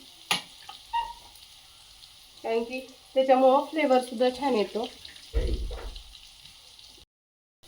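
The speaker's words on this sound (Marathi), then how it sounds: "हिंग आणि जिरं, हिरवी मिरची आणि लसूणचं जे वाटण आहे त्याची कडक एकदम फोडणी द्यायची भाजीला" A paste of garlic, green chilli, asafoetida and cumin sizzling in hot oil as a tempering for fenugreek greens, a crackling hiss with a few sharp spatters, someone talking over it.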